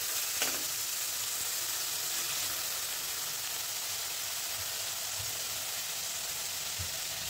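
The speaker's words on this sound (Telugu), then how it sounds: "చాప్ చేసుకున్న ఆలు అండ్ క్యారెట్, కొన్ని బఠానీ అన్నీ వేసి మంచిగా ఫ్రై చేసేసుకోండి" Chopped potato, carrot and peas fry in a pan with oil and green chilli, giving a steady close sizzle throughout with a few soft scrapes of stirring.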